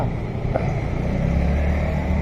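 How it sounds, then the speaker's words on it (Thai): Car traffic on Sala Daeng Road in Silom, Bangkok, a narrow, congested street, sounds as a steady low engine rumble that swells slightly as vehicles move nearby, with no talk. "แถวนี้ก็รถก็จะติดหน่อยนะครับ"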